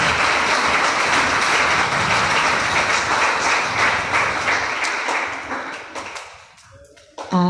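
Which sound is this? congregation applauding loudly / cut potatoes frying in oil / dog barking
congregation applauding loudly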